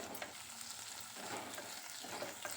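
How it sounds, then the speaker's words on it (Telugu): Moringa leaves and garlic fried together in a pan, a soft, steady sizzle with light stirring scrapes, fairly quiet and continuous, without speech. "ఈ మునగాకు కూడా వేసి ఇంకా కాసేపు బాగా ఫ్రై చేయాలి"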